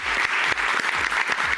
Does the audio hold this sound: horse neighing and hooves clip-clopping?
no